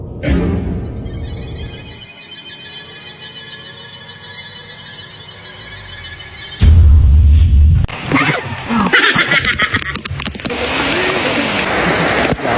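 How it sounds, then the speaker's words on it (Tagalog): Rain pours down steadily on the surface outside, a dense hiss that turns loud and close after a sudden jump, with splashing and squealing mixed in. "ngayon mga kaaliw, naliligo kami ng ulan"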